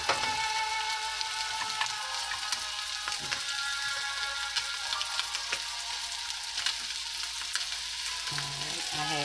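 Chicken and asparagus fry steadily in a pan, giving a dense, continuous sizzle with scattered crackles and pops at close range that holds evenly throughout with no talking.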